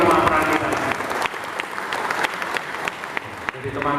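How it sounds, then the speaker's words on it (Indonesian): A crowd at a Prabowo-Gibran campaign consolidation rally in Semarang, Central Java, applauds with loud, dense clapping that carries on steadily for several seconds. "Tepuk tangan untuk seluruh panglima perang kita."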